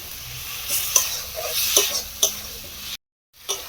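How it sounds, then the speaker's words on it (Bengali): Spiced masala paste sautéed together with boiled potatoes in a pan for an egg and gram-flour dish, a steady sizzle with a few sharp scrapes and clacks of stirring, then a sudden cut to silence and a last brief scrape. "মশলাটাকে খুব ভালো করে আলুর সঙ্গে কষিয়ে নিচ্ছে"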